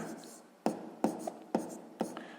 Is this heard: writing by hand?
yes